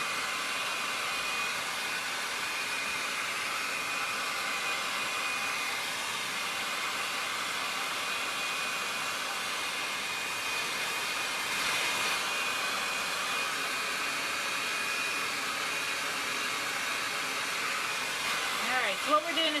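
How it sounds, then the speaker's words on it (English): A hair dryer blows continuously to dry chalk paste on a mirror, a steady close whooshing hiss with a faint high whine that holds evenly throughout with only slight shifts. "what we're doing is we're just drying the paste so that we can put another layer on."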